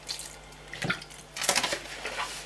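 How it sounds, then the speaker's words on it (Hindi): Water from a tap splashes into a bowl of flour while donut dough is mixed and kneaded by hand in a home kitchen, coming as a few short, close bursts of running and pouring with no talk. "इसी तरह करते करते थोड़ा थोड़ा पानी हम और लेंगे इसमें।"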